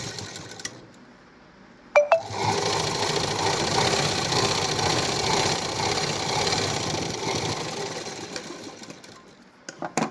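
A sewing machine stitches a hook strip onto a princess blouse in one continuous run of about six seconds. The rapid mechanical whirr is close and fairly loud, set between a few quiet handling clicks before and after.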